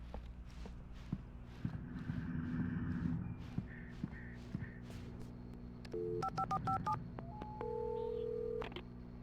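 Telephone keypad tones dialed inside a gas station in the Alan Wake video game, a run of short beeping digits following footsteps, with a caw-like call and steady background hum beneath.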